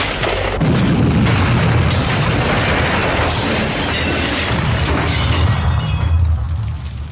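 A gunshot sets off flammable pomade in a loud explosion: a heavy boom followed by sustained rumbling, crackling and shattering debris that rolls on for several seconds before tapering.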